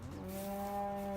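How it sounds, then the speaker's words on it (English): A cow on a saffron farm in France gives a single sustained moo that holds a steady, clearly pitched tone, fairly close and alone without talk. "the cow mooing"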